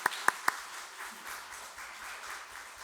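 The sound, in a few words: church congregation applause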